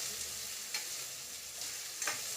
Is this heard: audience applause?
no